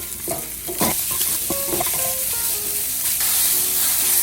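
Sausage meat sizzling steadily in a pan for sausage herb stuffing, with a spatula pressing and scraping through it in repeated knocks and scrapes, close and fairly loud with no talk.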